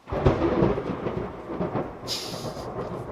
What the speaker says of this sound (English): Man, we just had lightning go crazy outside.